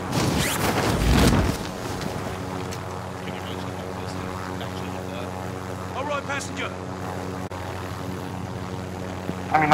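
A helicopter in the video game Warzone flies with a steady, droning rotor and engine hum that holds for the whole stretch, while voices talk over it.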